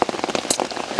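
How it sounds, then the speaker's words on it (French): Rain falling on a summer bushcraft bivouac, a dense, close patter of drops in rapid irregular ticks, steady and fairly loud throughout with no talking. "il pleut toujours"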